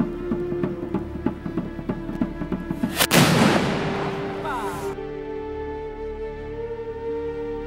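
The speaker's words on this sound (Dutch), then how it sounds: "Want de kanonslag die, daar gaat hij." The Grol cannon fires a New Year's shot in Groenlo: one sharp, thunderous boom with a long rumbling decay, preceded by scattered crackles and followed by a steady low hum.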